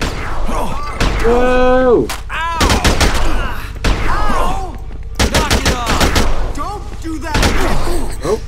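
Gunshots in the video game Dead Rising 2, loud broadband bursts recurring in clusters through the span, mixed with shouting voices and game sound.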